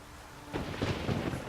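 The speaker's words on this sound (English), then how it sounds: "Storm." Thunder rolls in during a night thunderstorm with rain in The Witcher 3, a deep heavy rumble that swells abruptly after a quiet moment and continues loud and close over the hiss of rainfall.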